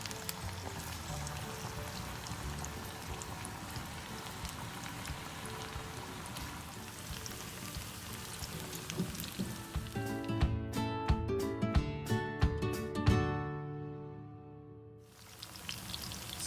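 Chicken pakoras fry in very hot oil with a steady, dense sizzle and crackle, growing busier with sputtering pops before briefly dropping away near the end and then resuming.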